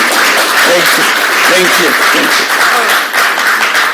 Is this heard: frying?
no